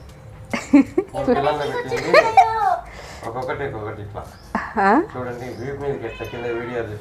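A cat meows several times, with rising and falling cries, while a voice and other talk overlap throughout.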